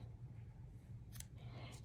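Scissors trim strands while a custom embellishment is made: two quick, crisp snips close by in a quiet room, with no talking.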